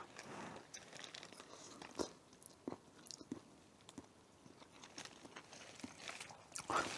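Macaroni being chewed at a campfire campsite, giving soft repeated crunchy bites and mouth sounds close to the mic, with faint rustling and no talk.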